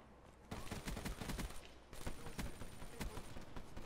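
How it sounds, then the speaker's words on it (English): Rapid gunfire rattles in a first-person shooter video game, dense bursts of sharp cracks that stop briefly and then resume, close and fairly loud, with faint talk underneath. "Oh my god, that shotgun."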